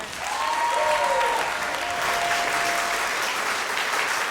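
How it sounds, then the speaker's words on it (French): A studio audience at a talk show claps steadily to welcome guest Mélanie Couture, a dense and sustained wash of applause with a few cheers or whistles rising above it. "j'aimerais qu'on donne un moment d'applaudissement pour Mélanie Couture"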